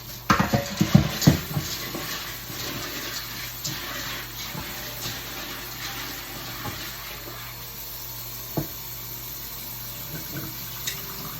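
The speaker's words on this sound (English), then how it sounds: "I'm gonna rinse off my beans." Dried beans rinse under a running kitchen tap for Cajun red beans, with a steady stream of water broken by clattering, stirring rattles early on and occasional sharp knocks later.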